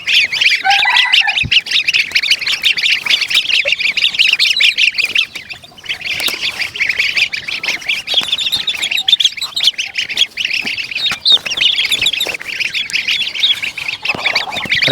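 Young Pekin duck chicks on a farm, just released and running about, give a dense, continuous chorus of shrill squawks and peeps, loud and close, with no voices.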